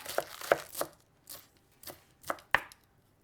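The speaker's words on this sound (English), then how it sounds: "They're just going to be chopped up" A knife chops leftover green onion bits on a board in a home kitchen, several crisp, close thuds in two short bursts separated by a brief pause, with no voices.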